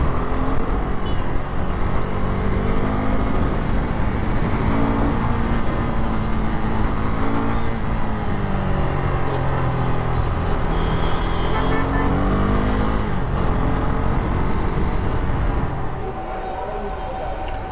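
Early-morning city traffic on a Bangalore road: continuous dense engine drone from cars and buses, with vehicles passing and revving close by, sustained loud throughout before easing slightly at the end.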